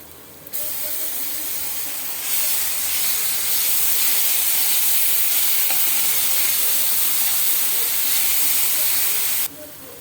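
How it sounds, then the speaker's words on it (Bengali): Soya chunks frying with salt in a pan give a loud, steady sizzle and hiss that starts abruptly, swells after a couple of seconds and cuts off near the end. "নুন দিয়ে ভালো করে ভেজে নিচ্ছি"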